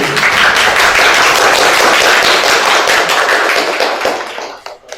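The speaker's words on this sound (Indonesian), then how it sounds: "Beri tepuk tangan semuanya" A school audience at a student council candidates' event claps in a loud, dense burst of applause that holds steady for several seconds, then trails off quickly at the end.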